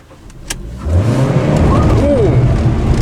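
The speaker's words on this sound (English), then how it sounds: "I'm drifting, Harry." A car engine revs hard as the car drifts across gravel, its roar rising from quiet to a loud, sustained growl close up, with a pitch sweep partway through and a brief voice early on.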